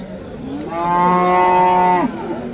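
A single long, loud cow moo rings out nearby at a livestock market in Samarkand, steady and drawn out for over a second, with faint background noise before and after.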